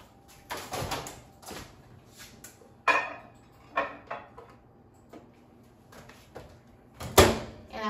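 A dish of bell peppers clinks down inside a microwave and its door thumps shut amid a series of clunks and light knocks.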